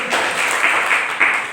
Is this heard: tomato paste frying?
no